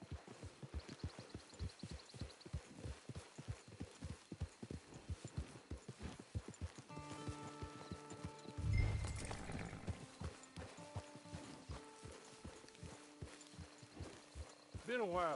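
Horse hooves clip-clop in a steady walking rhythm in the video game Red Dead Redemption 2, close and even, with a brief whinny and a voice speaking partway through.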